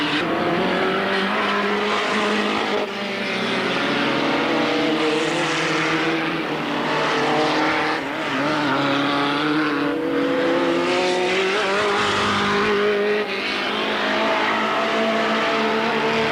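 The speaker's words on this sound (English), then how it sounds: "Cars spreading out rather well all the way around the track at the moment." Race car engines roar continuously as cars circle Alwalton Raceway in 1983, the pitch rising and falling as they pass, loud and steady throughout.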